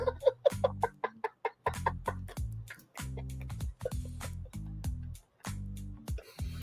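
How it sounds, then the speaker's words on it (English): Chickens and roosters cluck repeatedly outdoors near a courthouse, a rapid series of close, sharp clucks broken by brief pauses, with steady low background noise. "There are more chickens and roosters outside the courthouse."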